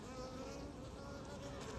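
A honeybee buzzes in a steady, continuous drone near a hive, fairly close and alone with no voices.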